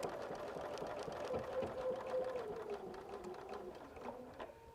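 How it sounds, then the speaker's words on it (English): A sewing machine runs a short back stitch on a quilt with a soft, continuous mechanical whir, quiet and close, speeding and easing slightly as it goes. "Do a little back stitch."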